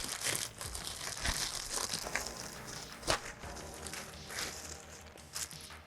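A plastic shipping bag crinkles and rustles continuously up close, with occasional louder crumples and handling noises.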